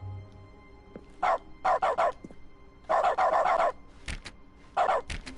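Dog barks from the dog mode of The Stanley Parable: Ultra Deluxe, a series of loud, close bursts of two to four yaps each, spaced irregularly with brief pauses and a sharp yip near the end, over faint background hum.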